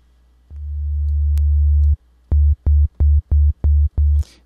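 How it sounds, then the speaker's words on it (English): A pure sine-wave oscillator on the Massive synth, set one octave down, sounds a deep bass tone. First one long held note swells in, then six short, evenly spaced repeated notes follow. The tone is clean and loud, with no speech. "Okay, that's a nice pure sine wave."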